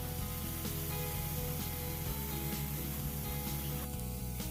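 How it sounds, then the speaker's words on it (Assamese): Ridge gourd peel dry-frying in a wok with no water added, giving a steady close sizzle and hiss with a low hum running throughout. "আমি এনেদৰে শুকানকৈ ভাজি থাকিম যাতে ইয়াত লাগি থকা পানীখিনি শুকাই যায়"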